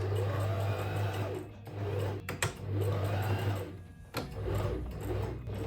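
A sewing machine stitches a leather sleeve seam for a trench coat in close, loud bursts of rapid whirring, stopping briefly between runs with small clicks in the pauses.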